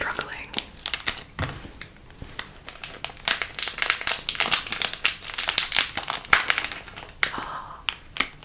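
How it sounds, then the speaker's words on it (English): Crisp, irregular snips and crinkling of packaging being cut close by, with soft rustles and brief quiet voice sounds in between. "Decided we're gonna use scissors for this one"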